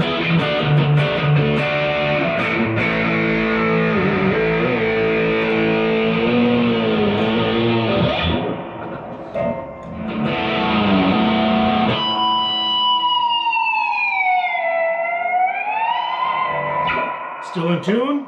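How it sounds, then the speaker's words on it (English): An electric guitar fitted with a Floyd Rose tremolo plays through heavy distortion, first as sustained chords, then as sweeping dive-bomb bends whose pitch swoops down and back up. "throw some distortion on there."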